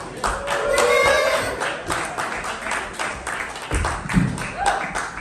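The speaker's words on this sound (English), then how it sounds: "put your hands together for Temple the Bar" A comedy club audience claps and applauds as a comedian is brought to the stage, a dense burst of hand claps that thins into scattered claps, with voices and a few whoops mixed in.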